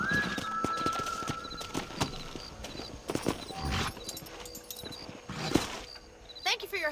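Horse hooves clip-clop in the Red Dead Redemption game in a New Austin setting, irregular hoof strikes mixed with game sounds, a brief whinny-like tone, and talking voices over the top.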